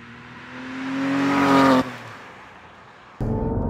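Porsche 991 R from 2016, a manual 500 hp sports car, pulls hard as its engine climbs to a loud peak, cuts off abruptly near two seconds, idles low, then roars again for the final half second.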